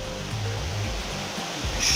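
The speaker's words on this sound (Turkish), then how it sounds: "böyle bir şelale Polpoz şelalesi" Holfossen waterfall in Norway pours with a continuous rushing roar, close and loud, its broad hiss steady from start to finish with no voices heard.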